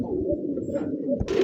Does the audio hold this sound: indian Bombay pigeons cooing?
yes